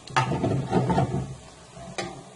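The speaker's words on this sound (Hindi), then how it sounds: "सफेद जीरा, इनको हल्का सा फ्राई कर लेते हैं।" Red chilies and cumin seeds sizzle briefly in hot oil while being stirred. The sizzle is soft and close, with a few scraping stirs and a sharp clink near the end.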